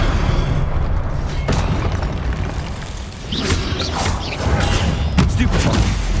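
Combat effects from Hogwarts Legacy on PS5 during the Pensieve Guardian boss fight: an Incendio fire spell bursts out with booming, crackling blasts over a constant rumble, with several sharp flares near the end.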